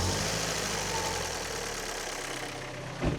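A Fiat Cinquecento Sporting engine, abandoned for seven years, idles with a steady rough rumble and a slight knock, followed by a brief louder bump near the end.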